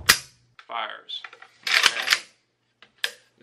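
An airsoft AK fitted with an ALG AKT-EL electric trigger fires with the safety off, giving a few sharp, close snapping shots spaced apart, with a voice speaking between them.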